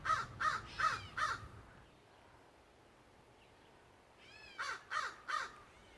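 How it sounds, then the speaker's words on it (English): A raven calling outdoors, two sets of four deep, hoarse croaks spaced by a few seconds of quiet, fairly close and clear with no talking. "that's the raven."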